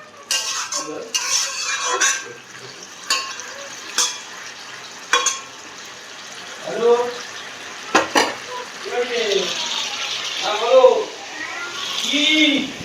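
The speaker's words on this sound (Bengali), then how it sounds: "পটল ভাজা হচ্ছে" Pointed gourd frying in a pan at home, with intermittent stirring scrapes and utensil clatter over a soft sizzle while a person talks throughout.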